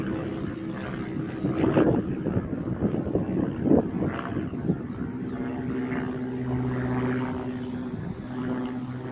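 An RC Mustang model airplane flies overhead in crosswinds. Its propeller engine drones steadily at a distance for several seconds, partly buried under gusty wind noise on the microphone.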